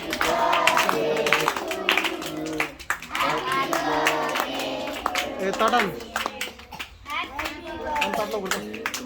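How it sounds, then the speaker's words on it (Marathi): Birthday applause from a group including children, with scattered clapping that swells and fades while people talk and a voice is heard over it. "सर्वांनी टाळ्या वाजवून त्याला शुभेच्छा द्या."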